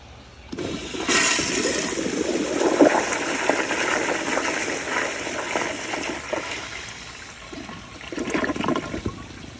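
Kohler Kingston water guard toilet flushes with a loud, forceful rush of water that surges close by for several seconds, then trails off into gurgling refill, with no talk.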